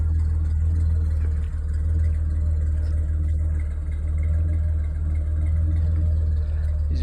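Engine of a 1986 Ford Econoline van with a Flowmaster muffler running at a steady idle, a deep continuous low rumble with a throbbing exhaust note, close and loud throughout.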